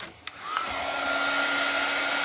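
A hair dryer switches on after a couple of clicks and blows steadily with a loud, even whooshing hum.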